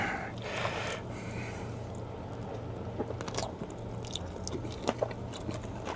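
Someone eats a tomato sausage salad, giving close, wet chewing and munching sounds with soft crunches throughout, alone over a low steady hum.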